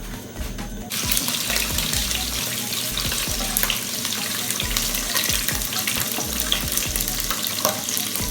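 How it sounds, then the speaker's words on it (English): Beef pieces fry in hot oil in a pan, a loud, steady crackling sizzle that starts abruptly and carries on close up, with scraping stirs and faint clinks mixed in and no talking. "So frying our meat now."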